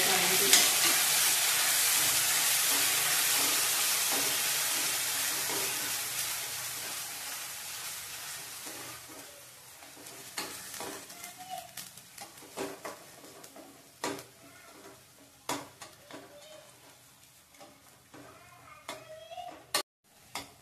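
Onion and tomato roasting in a pan for dry chicken masala, a loud dense sizzle at first that fades and thins as the moisture cooks off, followed by repeated spatula scrapes and clicks against the pan.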